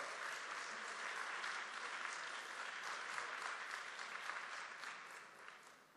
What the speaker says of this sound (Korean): 여러분 다시 한번 더 뜨거운 박수 부탁드리겠습니다.